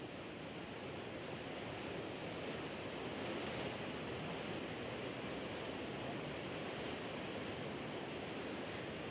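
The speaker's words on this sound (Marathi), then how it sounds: "संततधार सुरू असल्यामुळे नद्या नालेही खळखळून वाहत आहेत." Rushing water at a waterfall swollen by continuous heavy monsoon rain near Nashik, a steady, dense roar that holds unchanged throughout with no voices.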